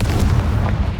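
A Confringo fire spell blast in the game Hogwarts Legacy, a loud, heavy booming burst with low rumble filling the whole short moment.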